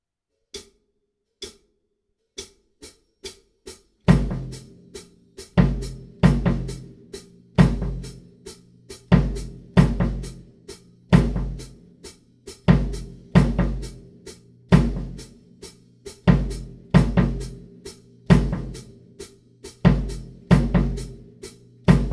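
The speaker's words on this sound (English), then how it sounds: "Now here's the kick drum pattern." Kick drum pattern of a song's groove: a few sparse soft hits, then a loud, steady repeating kick pattern with heavy low thumps and bright attacks, alone and close.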